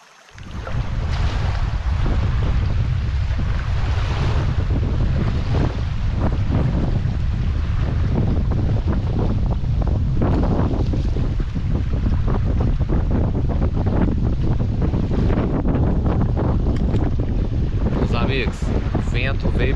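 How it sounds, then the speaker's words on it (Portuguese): Strong, steady wind roars across a riverbank on a fishing trip, buffeting the microphone with constant low rumble and gusts, water lapping against the bank beneath it for the whole stretch. "Batendo um vento muito forte aqui e quebrando contra o nosso barranco aqui."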